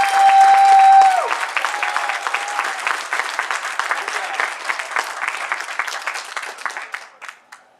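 Convention crowd at a furry convention's closing ceremony breaks into loud, sustained applause and clapping for the staff, dense and continuous before tapering off near the end.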